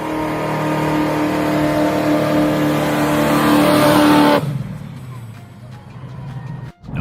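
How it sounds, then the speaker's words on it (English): A 1969 Ford Cobra Jet V8 muscle car engine roars loudly and steadily at close range, then cuts off abruptly partway through, leaving a quieter, fading rumble. "The sound of that engine? Pure thunder."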